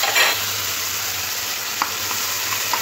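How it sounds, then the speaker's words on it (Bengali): Spices sizzle and fry with softened tomatoes in a pan for a fish curry with poppy seed, with steady crackling close by and a few spoon scrapes and stirs, no voices. "সমস্ত কিছু ভালো করে টমেটোর সাথে কষে নেব।"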